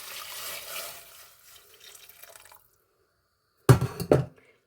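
Strained cooking water poured back into a pot while making a Bindi Ghost dish, heard as a brief splashing pour near the end after a stretch of faint kitchen noise.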